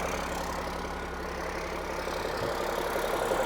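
A Cummins diesel engine swapped into a Land Rover 130 idles steadily, a low, even rumble with a constant mechanical clatter, close and continuous with no voices.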